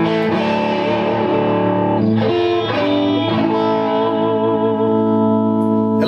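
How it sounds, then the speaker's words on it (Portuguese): Electric guitar with two bright humbuckers, played through a distortion pedal into an amp, sustaining thick, saturated chords that shift a few times over several seconds, loud and close with no talking. "hoje eu liguei um pedal, gente, de distorção"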